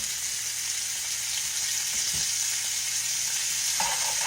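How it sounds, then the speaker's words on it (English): Steak frying in a skillet, a continuous bright sizzle close up, with a couple of soft knocks and scrapes from handling the pan, no talking. "Let me flip that steak over and get it hot on the other side."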